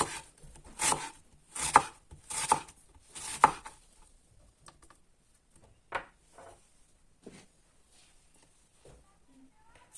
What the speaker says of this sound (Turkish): Soğanlarımızı ince ince doğrayıp biraz tuzla oluşturacağız.